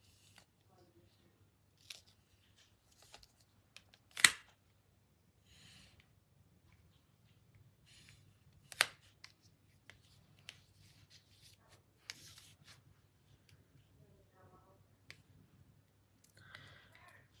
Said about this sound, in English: Get some ribbon scissors.